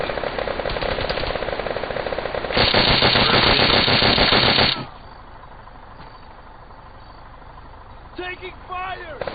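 Automatic gunfire in a multiplayer video game during a squad event rattles in dense, loud bursts for several seconds, then falls away to a quieter background, with brief radio-style voices near the end.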